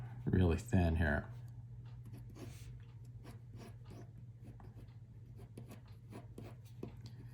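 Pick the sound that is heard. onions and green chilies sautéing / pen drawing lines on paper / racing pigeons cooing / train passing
pen drawing lines on paper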